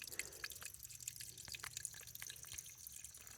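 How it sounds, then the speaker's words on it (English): Water trickling out of a rock beside the Appalachian Trail makes faint, close, irregular drips and soft splashes over a quiet background, with no voices. "There's water coming out of a rock right there."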